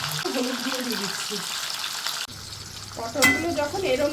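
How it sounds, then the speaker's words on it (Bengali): The seeds and pulp of pointed gourd sizzle in hot oil with a little salt and turmeric, a steady frying crackle with stirring noises and a brief rush of sound near the end, while someone speaks over it. "তেল গরম হয়ে গেছে, এবার পটলের এই বীজ ছাড়িয়ে নেওয়া অংশগুলো আগে ভেজে নিচ্ছি"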